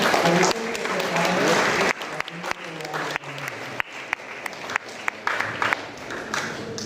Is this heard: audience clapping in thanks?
yes